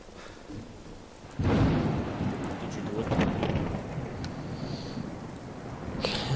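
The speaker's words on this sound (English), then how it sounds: "Okay, and now we've got thunder and rain." Rain pours steadily in the Fallout 4 game world as a sudden close thunderclap cracks and then rolls on, fading into rumbling under the hiss, with a few brighter spatters near the end.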